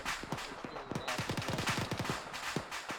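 A burst of gunshots during a military field training exercise: a quick, fairly faint series of sharp cracks rattling in irregular rhythm, somewhat distant, with no talking.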